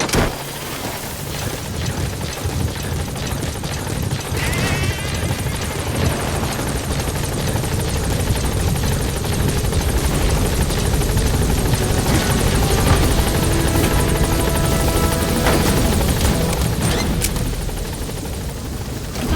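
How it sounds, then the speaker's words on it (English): A support helicopter in the video game Metal Gear Solid 5 hovers close by, its rotor thumping steadily and loudly for the whole stretch, with a few sharp bangs in the background. "Support helicopter has arrived."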